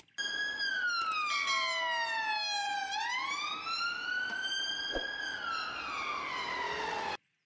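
A toy police car sounds an electronic wailing siren, rising and falling in long smooth sweeps, loud and close for about seven seconds and then cutting off abruptly, with no talking over it.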